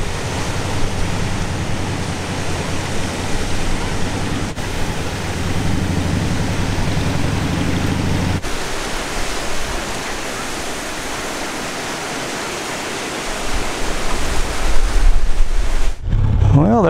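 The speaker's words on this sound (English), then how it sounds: "there's a look at the Niangua River coming through the Truman Dam here. They got it moving right along." Fast-flowing Niangua River water rushes through the outlet below Truman Dam, a steady, loud broadband roar that holds throughout, with a brief shift in tone near the end.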